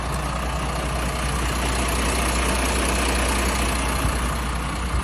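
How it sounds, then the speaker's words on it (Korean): A heavy 5-ton cargo crane truck engine idles steadily nearby, a low continuous rumble with no voices. "지금 뭐 엔진 소리나 이런 것도 들어보시면 아시겠지만"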